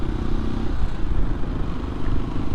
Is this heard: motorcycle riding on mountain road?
yes